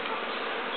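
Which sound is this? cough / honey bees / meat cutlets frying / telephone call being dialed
honey bees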